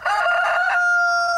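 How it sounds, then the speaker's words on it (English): A pitched-up rooster crowing sample, one loud sustained cock-a-doodle-doo with a bright, nasal tone, heard close and alone without background noise. "So I managed to get a rooster sample from the internet."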